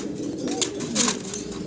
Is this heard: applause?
no